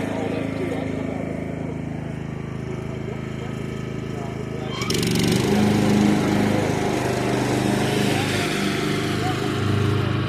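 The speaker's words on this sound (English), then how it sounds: "So the mower's coming." Craftsman riding lawn mower running outdoors, a steady rough engine drone that grows noticeably louder and closer halfway through as the mower approaches.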